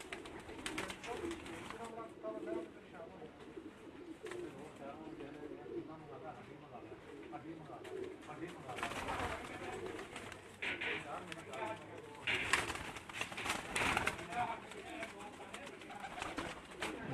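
Prize-winning champion pigeons on a breeder's rooftop loft in Lahore coo steadily in a dense, overlapping murmur, with background voices running faintly underneath.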